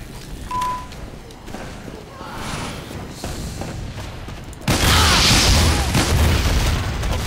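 A sentry gun fires in Team Fortress 2, booming rapid shots under the game's noise that build into a loud dense barrage in the final seconds.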